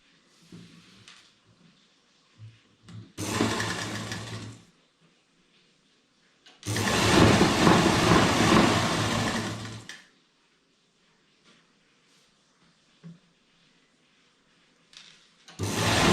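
An electric sewing machine stitches a crop top in two bursts, a short run of about a second and a half and a longer run of about three seconds, a steady whirring hum separated by quiet handling sounds.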